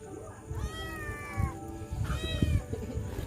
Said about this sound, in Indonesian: Awas eta meong tadi bawah eta.